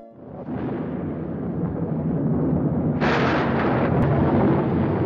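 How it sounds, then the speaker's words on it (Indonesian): A deep, rumbling blast builds into a sustained roar, growing louder with a second surge partway through, like a huge explosion. "Ketika Vulcania meledak dalam ledakan dahsyat"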